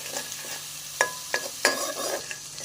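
A herbal powder remedy mixture of harad, amla and baheda being stirred in a pan over low heat, with soft scraping strokes, a few sharper clinks of the spoon against the pan and a faint sizzle beneath.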